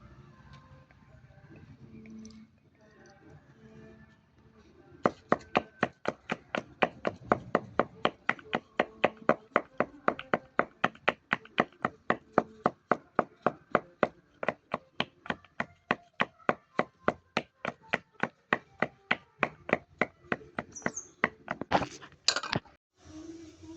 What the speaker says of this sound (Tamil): அடுத்ததாக கறிவேப்பிலை நன்றாக இடிக்கலாம்.